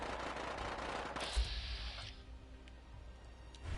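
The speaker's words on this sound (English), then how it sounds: "That sounds like a minigun. Or a light machine gun" Sustained automatic fire from a minigun or light machine gun in Fallout 4, a dense rattling burst at some distance, with a sharper noisy stretch partway through before it fades into ambient noise.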